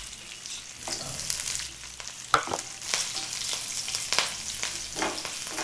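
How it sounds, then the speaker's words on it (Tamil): Chicken pieces fry in hot oil as finely sliced ginger goes in, a bright crackling sizzle with stirring scrapes and a sharp clack near the middle, close by and without voices. "இப்போ பொடிசா நீல வாக்கில் வெட்டின இஞ்சியை சேர்த்துக்கோங்க."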